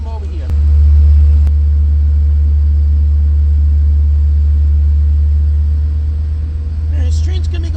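LIRR train 606 pulling into Northport station on the Port Jefferson Branch, a loud, close, sustained low diesel rumble with a couple of sharp clanks early on and brief high squeals near the end.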